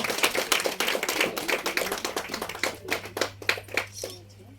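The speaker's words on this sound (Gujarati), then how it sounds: "તાળીઓનો ગળગડાટ થવો જોઈએ" A crowd applauds at a cultural club's mother-honouring ceremony, a dense patter of many clapping hands that thins out toward the end, with a steady hum underneath.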